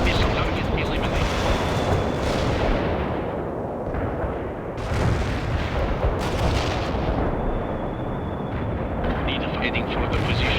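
Missile launches and explosions in the video game World in Conflict roar as sustained rumbling blasts and whooshing bursts, with voiced game radio chatter over the battle noise.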